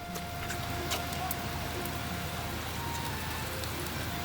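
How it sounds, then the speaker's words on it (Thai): Steady rain falls outdoors, making a soft, even wash of patter that stays constant and fairly faint throughout, with no voices. "ฝนน่าจะไม่หยุดแล้วครับ"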